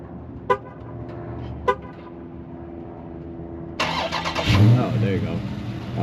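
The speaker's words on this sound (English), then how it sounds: "this car has some sort of remote start" A 2023 Dodge Charger Scat Pack Widebody engine cranks over by remote start and catches with a loud, rumbling roar that settles into idle, preceded by two short chirps and a quiet wait.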